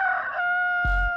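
A rooster sound effect crows with a loud, clear, tonal call, and a brief low thump follows near the end.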